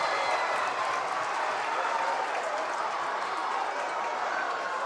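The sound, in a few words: basketball crowd applauding and cheering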